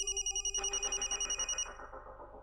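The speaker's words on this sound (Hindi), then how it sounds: "राज फोन उठा प्लीज।" A telephone rings with a steady, rapid trilling pulse, loud and close, then cuts off partway through and leaves a fading, muddier tail, with no voices present.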